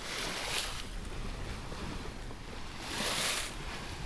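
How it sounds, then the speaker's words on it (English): Sailboat running under full sail in flat seas at 7 to 8 knots, heard as steady broadband wash of water and wind along the hull, with two brief louder gusts or surges of spray. "We've been running under all plain sail, making between 7 and 8 knots."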